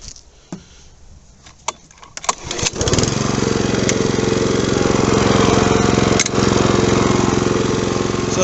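A few clicks and rattles, then a Honda HRB 535 lawn mower engine, previously non-running, fires up and runs loud and steady nearby, a continuous rough droning.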